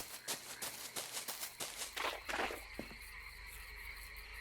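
Frogs croak in a horror-themed PS1 demo game near a frog terrarium, a rapid series of rhythmic croaks followed by a couple of sharper bursts, then a faint steady hum, quiet overall.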